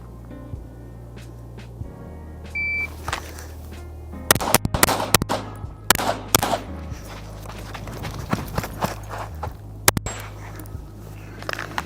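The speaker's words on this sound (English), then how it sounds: "we're gonna shoot the steel" Pistol shots ring out on a USPSA practice range, striking steel targets: a brisk string of sharp, loud cracks spaced irregularly from about four to ten seconds, with faint metallic pings and steady background hum between them.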